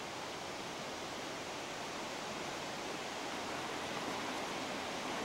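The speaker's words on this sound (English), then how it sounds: "There's the brook as it heads on down the valley." A brook near the south entrance of Yosemite, flowing down the valley, gives a steady, broad, unbroken rushing of water, close and continuous, heard alone.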